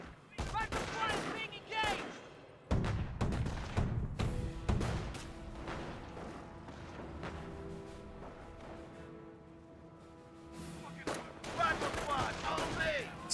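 Sniper rifle shots and surrounding gunfire in a Company of Heroes 1 match, sharp cracks and bursts of battle fire scattered through the clip under a commentator's voice.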